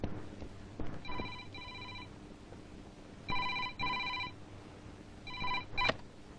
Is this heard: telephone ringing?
yes